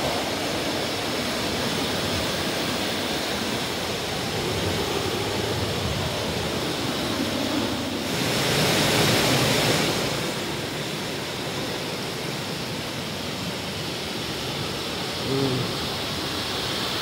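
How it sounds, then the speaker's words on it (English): Powerful floodwater rushes after a storm in Gatlinburg, Tennessee, a steady broadband roar that swells louder midway and holds constant throughout, with no voices. "That water is powerful."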